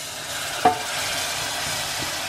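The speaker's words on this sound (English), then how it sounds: "Now I'm going to add the milk, little by little." Ordinary semi-skimmed milk poured little by little into a hot pan with butter, a brief splash followed by a faint, continuous sizzle and soft stirring, heard close up without speech.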